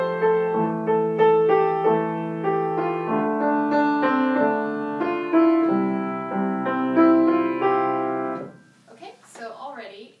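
An improvised tonal piece whose bass-clef harmony moves in half notes, chords changing steadily under a melodic line; the playing stops near the end and a voice takes over.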